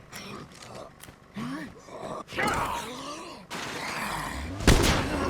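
Gunfire in the video game State of Decay 2, several loud sharp shots and bursts scattered among game groans and rumbles over a few seconds.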